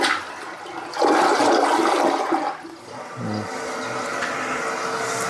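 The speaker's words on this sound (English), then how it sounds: "they have two different flush right there for if you go with small or big" A CANEST compact one-piece toilet with a dual flush, loud rushing flush that swells after a second, then gurgles and settles into steady refilling water, close and alone.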